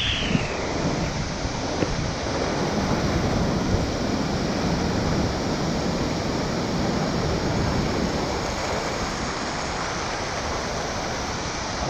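A strong river current pours over a waterfall at the Couros cascade in Chapada dos Veadeiros, Goiás, making a loud, unbroken roar of rushing water mixed with wind, heard close up with no talk.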